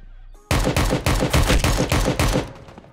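Loud gunfire in the video game Project Delta breaks out after a brief quiet start, a rapid string of roughly nine heavy, close shots in quick succession before cutting off.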